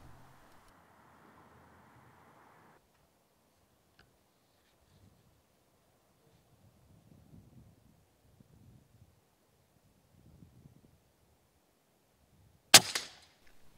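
A single sharp airgun shot cracks out near the end, fired at rats outdoors, after a long quiet stretch of faint rustling and a brief low hum at the start.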